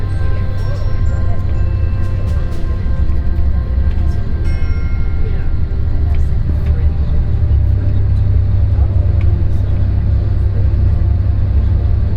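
A tour bus drives along a road in Virginia toward Mount Vernon, its engine a steady low rumble that continues throughout with faint road noise and no pauses.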